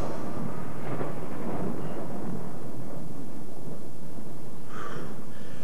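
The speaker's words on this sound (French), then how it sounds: "Je n'aime pas cet orage, Picabo." A thunderstorm sound effect in a French radio drama: a dense, continuous rumble of thunder and strong wind rolls throughout, swelling and fading, with a brighter crackle near the end.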